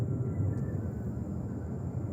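A Delta 737 takes off at JFK, a broad, steady jet roar at a distance with a persistent low rumble and no voices.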